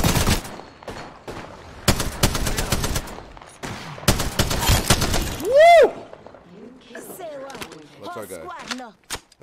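Gunfire in the video game Apex Legends: bursts of rapid shots in the first half, followed by whooshing, warbling ability or weapon effects, loud and close.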